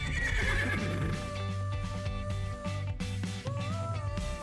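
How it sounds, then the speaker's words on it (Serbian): A horse whinnies loudly and close, its neigh rising and wavering, while clip-clopping hooves knock in a steady rhythm underneath. "To je konj."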